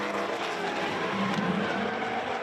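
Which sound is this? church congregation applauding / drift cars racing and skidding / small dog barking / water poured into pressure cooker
drift cars racing and skidding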